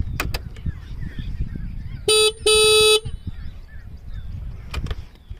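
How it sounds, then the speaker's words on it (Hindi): Horn of an Ather 450S electric scooter, two short electronic beeps in quick succession, close and loud over faint street background noise. "एक बार मैं आपको हॉर्न दिखा देता हूँ चालू करके"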